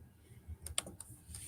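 A handful of quiet, irregular keystrokes on a computer keyboard, close but faint, with a couple of slightly sharper taps.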